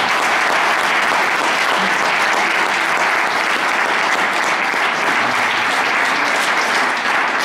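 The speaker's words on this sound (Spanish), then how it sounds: "Un aplauso para su hermano" Sustained applause from a church congregation, dense and loud clapping that continues steadily from start to finish with no pauses.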